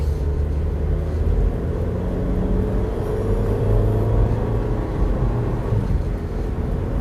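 A Toyota Avanza fitted with Monroe OES shock absorbers being driven, heard as a steady low engine and road rumble from inside the cabin, with no talk.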